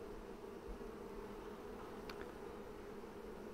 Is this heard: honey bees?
yes